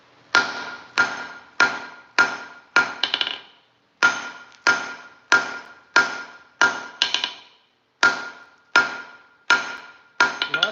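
Hammer blows on hot steel while forging V-bit blacksmith tongs, loud ringing strikes in quick groups of four to five with short pauses between, each blow leaving a bright metallic ring.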